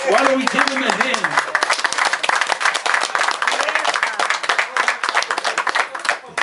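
A small party audience at Rusty's 60th birthday celebration breaks into close, dense hand clapping that thins toward the end, with a voice speaking briefly at the start over the applause.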